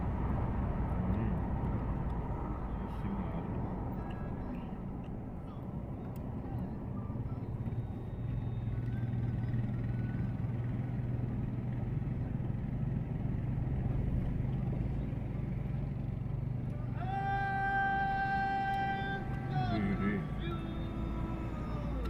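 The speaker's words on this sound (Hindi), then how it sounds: "बढ़िया खींच रहा है, बढ़िया बाइक" A motorcycle engine labors uphill on a Ladakh road, a steady low drone pulling under load, with a brief higher whine near the end.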